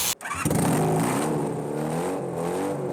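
A home-built ice trike's engine revs loudly and steadily nearby in an outdoor ice setting, holding a rough mid-pitched drone after a short sharp start.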